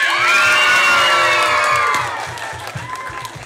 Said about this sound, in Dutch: mag ik dan maar een applaus voor al deze winnaars?